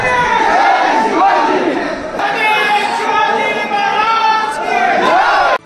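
A large crowd shouts slogans inside the palace complex at the Jijau birth festival in Sindkhed Raja, with many loud voices chanting and cheering together steadily throughout.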